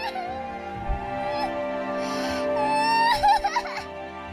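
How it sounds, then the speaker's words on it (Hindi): A baby cries and whimpers as a sound effect in a Hindi folk story set in a lonely, dangerous forest, rising into louder wails toward the end over a sustained musical drone. "राजा सूर्य सिंह ने सुना कि एक सुनसान और खतरनाक जंगल में एक बच्चे की रोने की"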